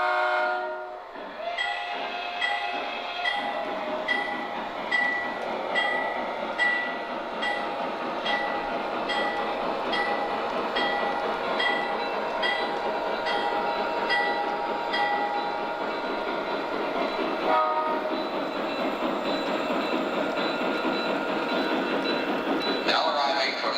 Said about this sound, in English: We got 2 trains on the main line, which is about 140 feet of track.